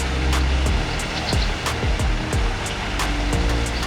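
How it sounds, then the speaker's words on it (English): River water pours into a pool after recent rain on an outback road trip near Mt Augustus, a continuous loud rushing wash with steady broadband roar, close and unbroken, no talking. "Hear that lovely water, and it's slowly filling up."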